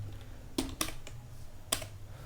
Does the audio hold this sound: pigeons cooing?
no